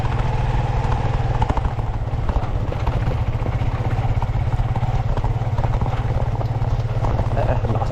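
A motorcycle engine runs steadily close by on a narrow village road in the Philippines, a continuous low mechanical drone with clattering texture throughout, with faint voices mixed in.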